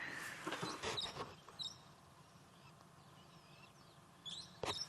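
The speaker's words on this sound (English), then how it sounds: "some brown-headed parrots, which he probably heard calling" Brown-headed parrots call on a morning safari drive in the African bush, giving a few short, shrill, distant squawks spread across a low outdoor rumble.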